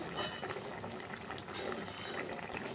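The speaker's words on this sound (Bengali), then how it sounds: "দেখুন ঝোলটা সেদ্ধ হয়ে গেছে" Fish curry gravy (karfu fish tel jhal) bubbling steadily in a pan, a dense continuous simmering hiss with soft popping, close and fairly loud, no voices.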